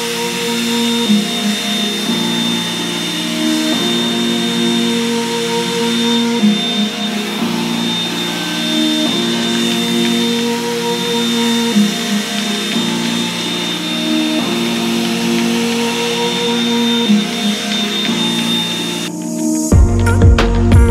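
Revlon hair dryer running continuously at close range, a loud steady blowing whoosh with a thin high whine, its airflow rising and falling rhythmically as it is moved, then cutting out near the end.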